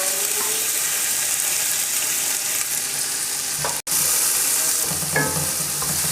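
Onions frying in oil with crackling whole cumin seeds make a dense, steady sizzle up close, broken by occasional spoon scrapes and one brief dropout, with no voices.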